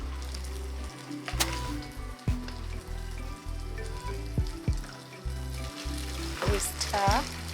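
Frozen chips frying with tomato sauce for chips masala, a dense steady sizzle in a pan while a utensil stirs and scrapes, with occasional taps against the metal.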